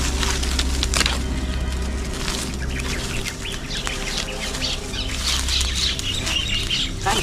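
A crowd of sparrows chirps and twitters busily in a forest, close and loud, over a low steady rumble.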